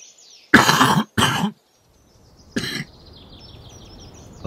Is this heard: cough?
yes